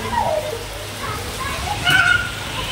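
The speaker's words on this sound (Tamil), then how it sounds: "மழை வர ஆரம்பிச்சிடுச்சு" Rain falls in a steady, broadband hiss around a home during a stormy spell, with children playing and voices talking over it throughout.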